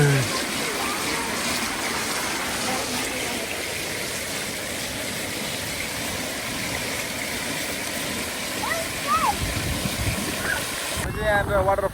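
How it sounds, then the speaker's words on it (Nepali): Water gushes steadily from a small waterfall in a city park, a constant splashing rush heard close by, with a few faint voices and a louder rustle near the end. "एउटा यहाँ पानीको वाटरफल पनि रहेछ"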